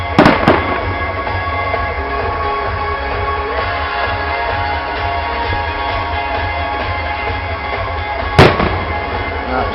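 Fireworks explode in a backyard: two quick, close bangs open the sequence, then a single loud burst follows several seconds later over a steady background rumble.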